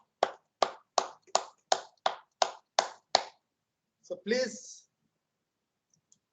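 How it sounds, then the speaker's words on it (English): Evenly paced hand claps during a warm-up exercise at a faculty development session, eight crisp, close claps in steady rhythm, then a brief spoken phrase after they stop. "So all of you please start doing clapping."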